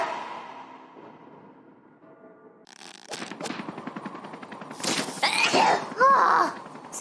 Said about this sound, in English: I have to sneeze really bad.